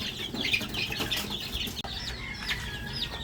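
Young yellow-legged, straight-combed gamefowl chicks cluck and peep in a steady, busy chorus close by, with overlapping high calls and no talking.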